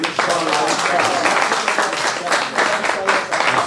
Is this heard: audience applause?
yes